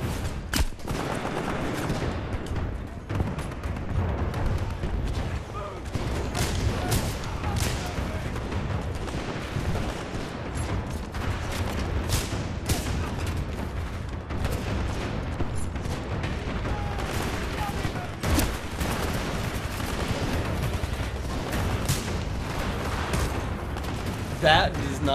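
Rapid gunfire and heavy impacts in Titanfall 2 firefights, dense and loud throughout with repeated sharp bursts and booms, while people talk over the action.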